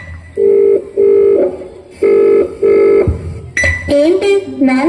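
A phone call rings unanswered: a steady electronic ringback tone repeats in evenly spaced pulses, loud and close, before a voice starts talking near the end.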